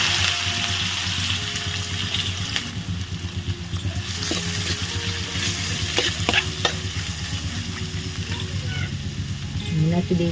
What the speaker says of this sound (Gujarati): અને હવે આપણે વઘારમાં નાખવાની છે ડુંગળી.